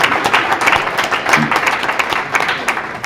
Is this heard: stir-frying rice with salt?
no